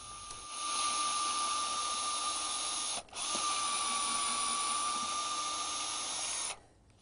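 A power drill whines steadily while pre-drilling wood for exterior deck screws on rustic furniture legs, with one brief pause before running again, then stopping near the end.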